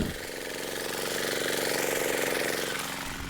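Walk-behind tractor fitted with support wheels, plowing a field: a loud, steady, close engine drone with a rapid mechanical chatter running continuously throughout, no voices.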